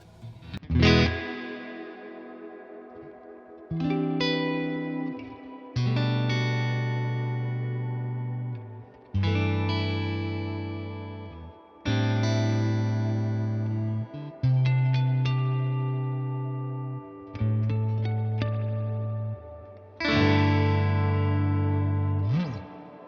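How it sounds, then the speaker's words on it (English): Electric guitar played through a Tone King Imperial tri-tube preamp pedal with the reverb turned all the way up, ringing chords and single notes that bloom into long, washy tails, played alone in repeated phrases. "And now if I crank up the reverb as well, let's see how far it goes."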